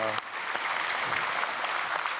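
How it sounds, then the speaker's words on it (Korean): A church congregation at a special early-morning service claps for a group of soloists, a dense burst of applause that starts abruptly and holds steady, fairly close and filling the room. "우리 박수로 축복하겠습니다"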